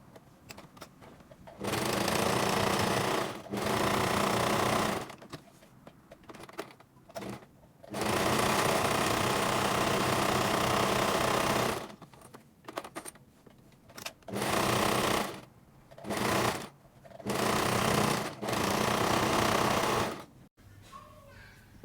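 Sewing machine stitching around a welt pocket, several bursts of rapid mechanical whirring of varying length separated by short pauses, close and fairly loud.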